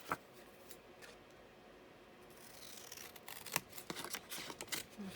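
Scissors snipping through paper while cutting out a postcard image from a book, faint at first, then a cluster of quick, crisp close-up cuts in the latter half.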